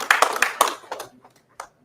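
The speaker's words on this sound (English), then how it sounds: "Give Bakar a round of applause." Brief scattered clapping from an audience at a justice rally held at an HBCU, a few sharp claps close together that quickly thin out into sparse, fading taps.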